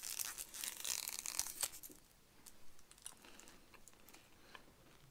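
An MRE ration gum packet being torn and crinkled open, crisp and close at first, then fading into faint, quiet chewing and rustling.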